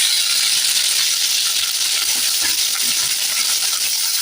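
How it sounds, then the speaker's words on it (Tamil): Onions and tomatoes sauté in a pan for a Tamil bottle gourd kootu, giving a steady, even sizzle and hiss with no talking. "தக்காளி சேர்த்து நல்லா வதங்கட்டும்"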